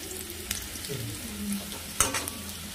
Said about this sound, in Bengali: দেখো জিরেটা এবার একটু ভাজা হয়ে যাবে